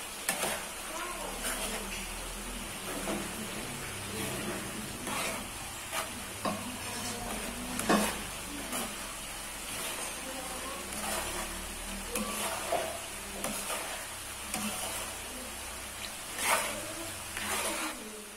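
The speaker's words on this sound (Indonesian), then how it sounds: "Saat menggoreng ubinya ini" Sweet potato strips frying with sugar in a pan for a crispy snack, a constant soft sizzle with repeated scraping stirs throughout.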